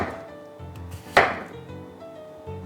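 A new kitchen knife cuts through food with one crisp, close chop standing out, followed by softer faint slicing sounds over quiet background hum.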